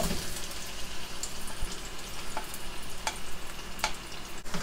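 Chicken pieces fry in hot oil, a steady close sizzle and crackle running throughout, with a few sharp clicks like a spoon turning the pieces in the pan.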